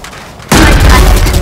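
Grenade blast in Valorant: after half a second of quiet game ambience, a sudden loud broadband boom hits and rolls on as a sustained, heavy roar to the end.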